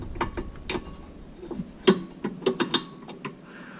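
Ratchet with a long extension turning a fastener on a 2003-2006 Mini Cooper S during rear wheel bearing work, heard as close, irregular clicking bursts of ratcheting with short pauses between strokes.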